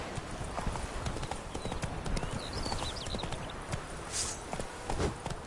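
Roach the horse galloping in The Witcher 3 on PlayStation 4: close, steady drumming hoofbeats in a fast continuous rhythm, with no voices over them.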